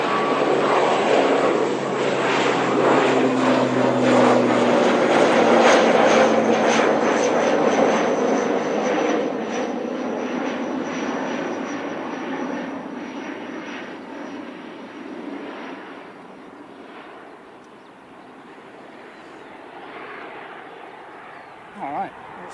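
Air New Zealand propeller aircraft NZ5774 to Napier departs Christchurch with a loud, broad engine roar that swells and then slowly fades into the distance over about twenty seconds.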